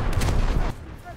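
A short, loud boom of naval gunfire from the Albatros fast attack craft in War Thunder, a single heavy shot that drops off into quieter engine and water noise.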